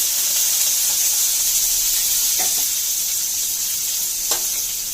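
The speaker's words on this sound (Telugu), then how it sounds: "ముందుగా పచ్చిమిరపకాయలు వేయాలండి ఇలా కొంచెం వేగాక ఈ ఉల్లిపాయలు వేయాలి" Green chillies and onions fry in hot oil for a fish curry, giving a loud continuous sizzling hiss with a couple of brief clinks from stirring, close up and with no voices.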